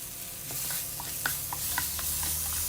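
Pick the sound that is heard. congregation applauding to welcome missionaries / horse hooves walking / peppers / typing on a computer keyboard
peppers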